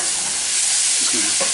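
A tofu stir fry with pineapple and hoisin sauce sizzles loudly in a hot pan as it is stirred, a dense, steady hiss with faint scraping, heard up close.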